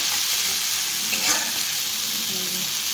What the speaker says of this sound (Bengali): দিয়ে একটু ভাজা ভাজা করে নেবো এটা মশলাটা।